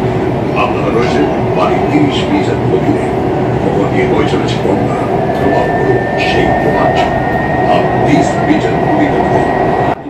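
A Kolkata metro train rumbles steadily at close range through the underwater tunnel beneath the Ganga, with a loud continuous roar and a thin, high wheel squeal drawn out through the second half.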